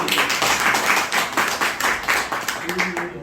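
An audience at a lecture event claps to welcome a speaker, with steady, evenly spaced claps close by that continue throughout and a voice briefly heard near the end.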